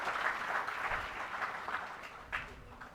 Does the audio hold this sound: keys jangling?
no